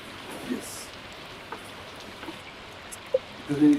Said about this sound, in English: No, it's another rainy day.